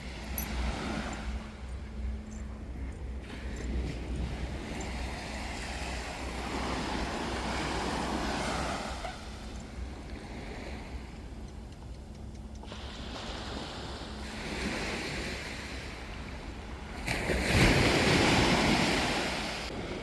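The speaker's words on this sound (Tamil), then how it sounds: "அலை சவுண்டு மட்டும்தான் உங்களுக்கு கேட்கும்" Ocean waves wash ashore at night near a lit ship harbour, a steady broadband surf with wind rumble, swelling into louder breaking surges around the middle and near the end, with no talking.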